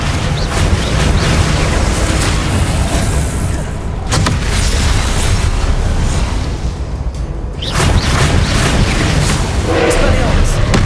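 Descendo spell slamming an enemy down in Hogwarts Legacy, a dense, continuous roar of booming magical impacts and whooshes, loud and sustained, with sharp bursts near 4 and 7.5 seconds and voices mixed in.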